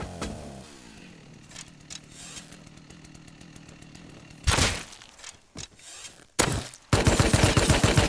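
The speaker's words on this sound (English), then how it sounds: "that's a chainsaw" A chainsaw runs in the survival game Rust, its buzzing engine rising and falling and then roaring loudly near the end, mixed with bursts that resemble gunfire.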